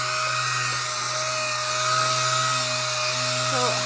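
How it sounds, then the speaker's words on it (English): A DA sander driven by an air compressor sands down a van roof before painting, giving a steady, loud, high-pitched whine with a constant low hum beneath, continuous throughout with no talking. "We have a compressor and a DA sander, so we're now just starting to sand down the roof, ready for painting"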